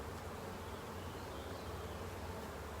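Honeybees humming at an open hive during an inspection, a steady, dense buzz that stays quiet and even throughout with no voices.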